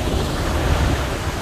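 Zoa Falls waterfall on the Ruo River in Malawi, at the Mozambique border, gives a steady, loud broadband roar of rushing water with some wind buffeting the microphone and no talk.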